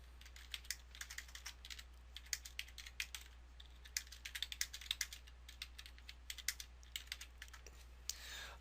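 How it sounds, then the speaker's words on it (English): Fingers type on a computer keyboard to enter text into an Excel cell, a quiet, close run of light key clicks in irregular bursts over a low steady hum. "I'm going to go ahead and type some information into"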